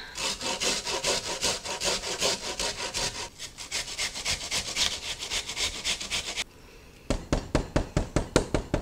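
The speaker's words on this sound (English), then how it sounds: "I'm going to take my grater here and I'm going to mince it really fine" Onion rubbed finely over a grater gives a loud, close, rhythmic rasping of quick strokes, a short pause, then sharper evenly spaced scrapes.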